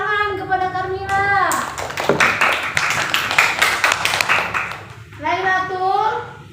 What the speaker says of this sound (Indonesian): Tepuk tangan kepada Karmila